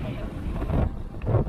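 Strong wind on a beach buffets the microphone in a constant loud rumble, with gusts swelling and falling and no other clear sounds above it.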